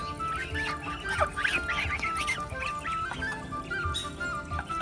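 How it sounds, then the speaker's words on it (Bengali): Several domestic ducks kept at a home call back and forth in a lively chorus of overlapping quacks and honks, close by and steady throughout, with no talking. "এই যে আমার হাঁসগুলো"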